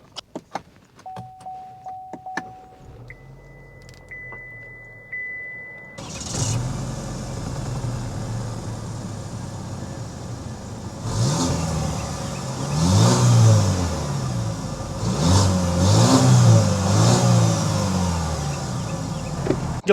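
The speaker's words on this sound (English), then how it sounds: "start it up so you can hear that exhaust note" A 2023 Cadillac XT4 Sport's turbocharged engine sits quiet at first while chimes beep and keys rattle. It then cranks and catches into a steady idle, followed by several loud revving bursts through the exhaust.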